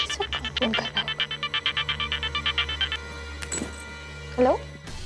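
A phone rings with an incoming call, a repeating pulsed electronic ringtone of about twenty rapid beeps for three seconds, followed by brief voices and a clink.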